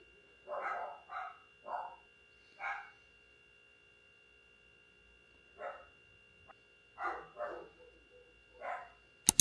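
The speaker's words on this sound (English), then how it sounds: "I apologize for the dogs" Several dogs bark in short bursts at a distance, a cluster of yaps, a pause, then another round, over a faint steady electrical hum.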